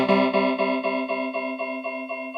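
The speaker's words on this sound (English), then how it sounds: "If we go to the space echo, tape echo there, add the mix." Sustained synthesizer chord from a Prophet 5 run through a space echo tape delay with feedback, repeating in a steady pulsing pattern that slowly fades, loud and alone.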